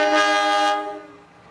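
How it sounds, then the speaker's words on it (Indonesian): Garut Cibatuan local train at the station as it prepares to depart, a loud sustained horn blast that fades out after about a second. "Ternyata kereta api Garut Cibatuan akan segera diberangkatkan ya."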